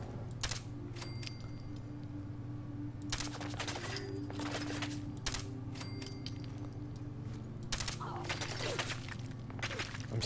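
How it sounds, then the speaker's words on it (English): Scattered bursts of gunfire in Fallout 4 crackle intermittently at a distance over a steady low background hum, with sharp clusters of shots around a few moments. "I'm still seeing gunfire, but I can't tell from where."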